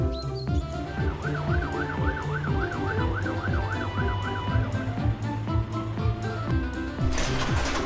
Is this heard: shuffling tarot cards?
no